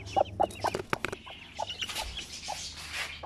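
A hen clucks in a series of short, rhythmic calls close by, with other faint bird and farmyard sounds around and no talking.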